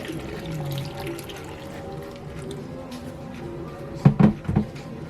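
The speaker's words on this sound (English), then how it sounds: "I'm going to fill this with some water." Tap water runs steadily into a blender container, with a few louder splashing bursts near the end.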